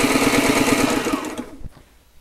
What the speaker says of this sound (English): I've just completed some of my cushion components using the Sailrite LS1 Ultra Feed sewing machine.